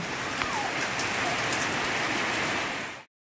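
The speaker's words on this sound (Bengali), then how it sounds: "এতে খুব জোর বৃষ্টি হচ্ছে খুব জোর বৃষ্টি বাপ রে বাপ কি বৃষ্টি" Heavy rain pouring down steadily, a dense, loud hiss of drops striking surfaces with no letup, close and constant until it cuts off abruptly near the end.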